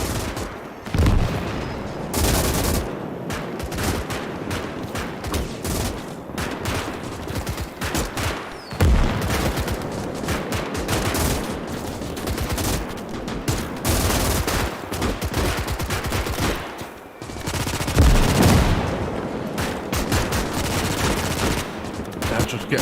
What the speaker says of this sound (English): A 100mm mortar just exploded right behind them.